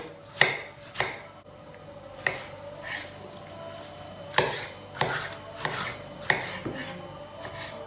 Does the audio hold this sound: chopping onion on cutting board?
yes